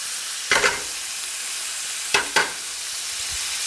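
Bacon fries for creamed corn in a steady soft sizzle, broken by two sharp scraping stirs, close and without talk.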